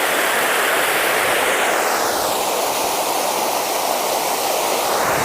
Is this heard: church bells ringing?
no